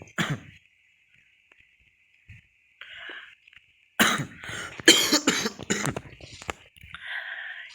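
A man coughs several times in close succession, loud and harsh near the microphone, after a stretch of quiet with faint background tones from a Minecraft game.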